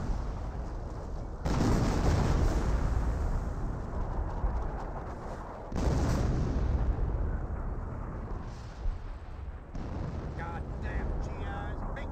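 An M2 machine gun firing in the Company of Heroes real-time strategy game, heavy sustained bursts blended with booming battle noise, loud and continuous with brief breaks, under an ongoing commentary voice.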